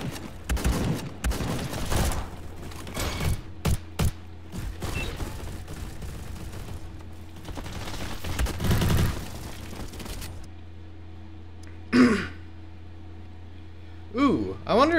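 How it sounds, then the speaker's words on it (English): A Christmas-themed Tommy gun in the shooter Bad Business, fired in quick automatic bursts and single rattling shots alongside mechanical clicks of weapon handling, while a voice talks over parts of it. "Is that a Christmas-themed Tommy gun?"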